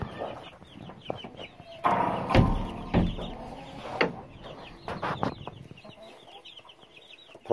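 Several chickens cluck and squawk close by in an irregular, busy chatter, with scattered louder calls and rustling.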